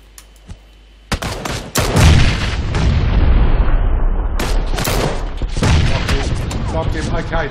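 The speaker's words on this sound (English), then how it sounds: "Let me start launching grenades" Grenade launcher fire and explosions in PUBG: after a quiet start, heavy booms and rapid gunfire erupt into a loud, continuous barrage with layered blasts, while a voice may be faintly mixed in.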